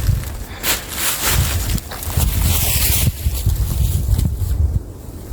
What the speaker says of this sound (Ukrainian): Вітер сьогодні трішки поганий, ну нічого.